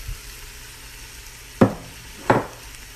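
Ham and a large ham bone cooking in a pot of split pea soup give a low steady simmer, broken by two sharp clunks of a spoon or utensil against the pot, with no talk.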